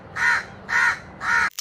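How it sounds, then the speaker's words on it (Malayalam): A crow caws three times in steady rhythm, each harsh call clear and moderately close, with a faint hiss of background noise between the calls. "കാക്ക വിരുന്ന് വിളിക്കണ്ടട്ടോ"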